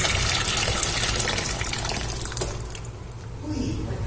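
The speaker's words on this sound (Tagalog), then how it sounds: "Hugasan ko lang itong kamatis at sili at yung ating sibuyas." Tap water runs steadily while tomatoes, chili peppers and onion are rinsed for a dried anchovy salad, a continuous close gushing that eases slightly toward the end.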